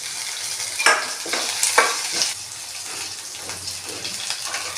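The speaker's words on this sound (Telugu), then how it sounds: "పోపు వేగిందండి." Curry leaves and green chillies sizzle in a hot tempering in a pan for a ridge gourd peel and toor dal curry, a close, steady frying hiss broken by a few stirring scrapes, with no voices.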